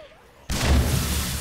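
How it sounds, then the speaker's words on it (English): A cop zombie blows up in 7 Days to Die: after a half-second of quiet, a sudden heavy boom hits hard and rolls on as a loud, sustained rumble without dying away. "Another cop explosion"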